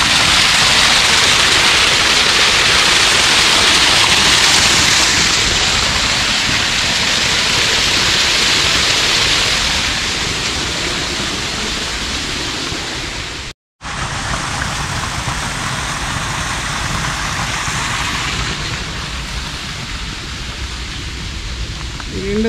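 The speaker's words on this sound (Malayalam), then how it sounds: "അടിപൊളി ഒരു വെള്ളച്ചാട്ടം ഉണ്ട്." Steady rushing roar of an artificial waterfall at Wadi Shees in Fujairah, a loud continuous broadband wash of falling water with a brief dropout midway, no talk over it.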